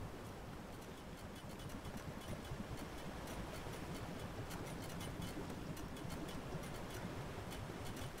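Continuous low droning hum from a generator at a base in the video game Palworld, broadband and unchanging, resembling rushing water, with no voices.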